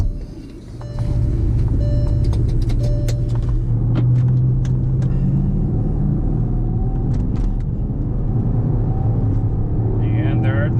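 Porsche Cayenne Turbo SUV engine with turbochargers pulls hard under acceleration, a steady loud low rumble that rises slightly in pitch, heard from inside the cabin while a person talks over it.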